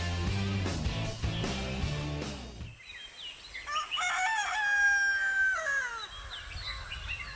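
Ayam Cemani chickens on a farm: a rooster crows loudly and close, with other fowl calling and clucking, after a stretch of harmonic background sound.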